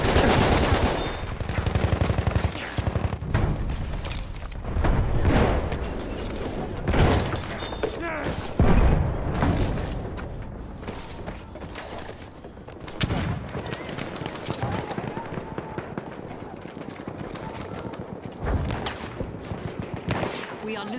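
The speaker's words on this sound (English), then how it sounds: "There's an enemy machine gun!" A chaotic Battlefield 1 battle on the Sunken Roads map, with bursts of machine gun fire, scattered rifle shots and occasional booms near and far, and shouted voices over the gunfire.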